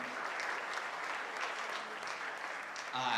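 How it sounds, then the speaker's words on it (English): Audience at a conference session breaks into steady, sustained clapping that stays even throughout, with a voice starting just at the end. "can we give a round of applause for Ryan"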